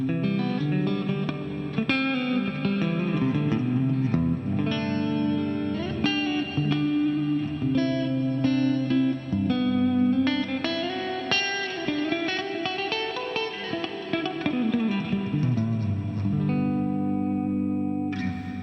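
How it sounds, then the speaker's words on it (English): An electric guitar plays through a TC Electronic Hall of Fame 2 reverb pedal set to duck the reverb slightly, giving sustained notes and chords with a soft wash of reverb behind them, played alone with no talk. "If you just want a slight reduction in reverb so that your guitar signal comes through, you can use -10, -12."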